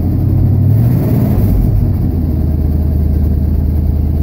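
A 1977 GMC K15 pickup with true dual exhaust and a driver's-side exhaust leak idles steadily, its low rumbling drone close and continuous, with a brief rise in pitch early on and no talking.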